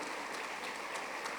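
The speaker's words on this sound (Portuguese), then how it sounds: "pode aplaudir para o Senhor Jesus" Steady applause from a church congregation praising Jesus, a dense wash of clapping that stays even and moderately distant throughout, with no voices standing out.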